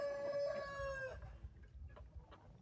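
A Tetra breed rooster, kept with other chickens on a mountain summer pasture in Aksy, lets out one long, loud crow, then fades into faint clucks and farmyard background noise.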